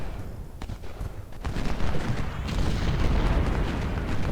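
Napoleon cannons fire in a Civil War battle game, giving a run of deep booms and distant rumbling volleys that pile into a continuous low roar of artillery.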